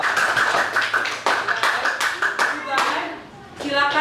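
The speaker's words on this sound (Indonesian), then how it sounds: "Tepuk tangan dulu dong biar semangat" Students in a classroom clap together in a sharp, fairly rhythmic patter of hand claps, close and loud, with children's voices and chatter mixed in.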